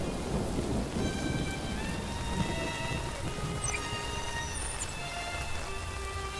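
Steady rain pours continuously in an animated RWBY Volume 7 episode, with low rolling thunder-like rumbles beneath and soft musical tones layered over the downpour.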